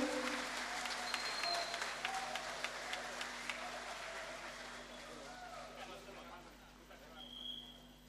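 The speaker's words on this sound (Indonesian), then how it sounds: "Tepuk tangan boleh?" Audience applause at a construction company's workplace safety commitment ceremony, a sustained wash of clapping from a crowd that fades gradually, with faint murmuring and a brief swell near the end.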